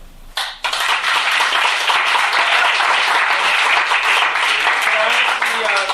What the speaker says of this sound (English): To stand for one last round of applause to send you off.